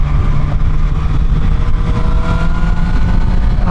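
Honda CBR 1000 RR sport motorcycle engine at steady partial throttle, a smooth continuous drone with a strong low hum and faint harmonic lines, loud and close throughout with no voices.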